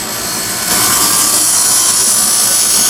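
A small gouge cuts a cove into wood spinning on a lathe while turning a chess king, a loud steady whirring with a rasping edge that swells slightly after half a second and continues unbroken.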